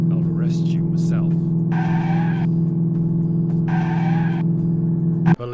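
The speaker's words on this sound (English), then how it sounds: "This must be the worst car chase in video game history." Tires squeal and skid over a steady engine drone during a video game car chase, with two sustained screeching bursts close up and loud, and a brief voice early on.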